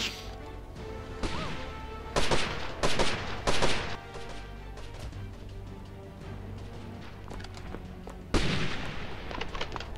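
Gunfire and crashing impacts in the Archeblade video game, loud bursts of shots clustered together and then another burst near the end, over game background sound.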